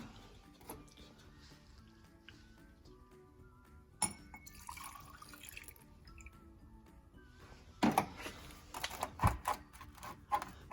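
Liquid from cleaned injectors on a truck fuel rail pours into a glass jar during testing, with faint drips and clinks, then louder splashing bursts and sharp glassy knocks near the end.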